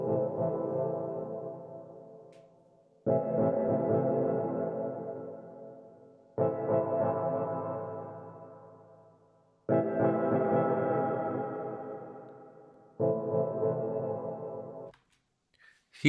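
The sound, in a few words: main melodic chord element of a dub techno track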